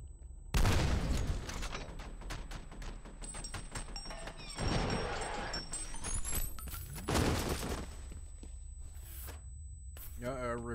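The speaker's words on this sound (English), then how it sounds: "A repeating cannon," Rapid repeating cannon fire from a monster in a video game, with dense bursts of booming shots in clusters, loud and close, mixed with other game effects and brief electronic tones.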